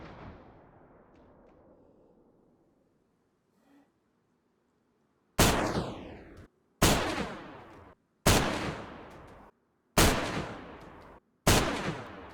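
A double-barrel shotgun in DayZ fires five loud, separate double shots, evenly spaced about every second and a half, each blast trailing off in a short decay after a quiet lead-in.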